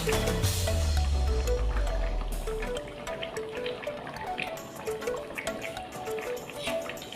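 Thin chicken gravy (a light Bengali chicken curry) being served, with soft liquid trickling and dripping, moderately close and steady, over faint background tones and no talk.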